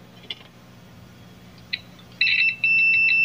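A multimeter's continuity buzzer checks a shorted diode on a flat-screen TV board, sounding one brief chirp and then a loud, steady electronic beep that drops out for a moment and resumes.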